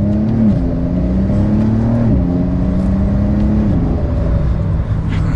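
A Porsche 911 Carrera S of the 992 generation pulls away under mild acceleration, its engine hum climbing steadily and dropping once with a gear change, heard close and continuous from the driver's seat.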